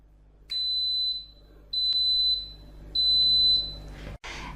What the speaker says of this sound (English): In a few seconds, Instant Pot will beep, and that will tell you it knows what to do and it's going to start doing it